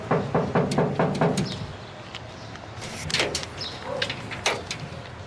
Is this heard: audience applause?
no